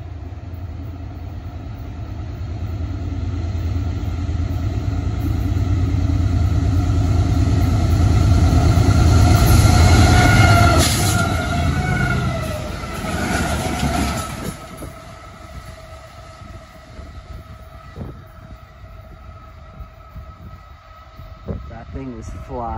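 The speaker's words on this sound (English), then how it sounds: "Here's the test train coming back." Freightliner Class 70 locomotive 70012 hauling a test train past on the Wabtec test track, a loud rumbling approach building to a peak around the middle, then fading into a lighter rolling tail with faint voices nearby.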